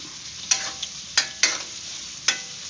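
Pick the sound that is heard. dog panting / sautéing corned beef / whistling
sautéing corned beef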